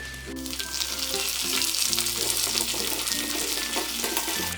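Shallots and curry leaves fry in a pan with a steady, bright sizzle that stays fairly loud throughout, with a few faint clinks and tones in the background.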